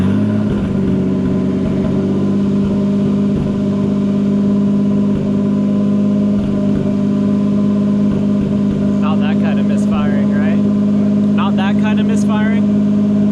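Nissan 240Z with an RB25DET engine idling rough and misfiring, a loud steady mid-pitched drone with uneven pulses; a voice talks briefly near the end.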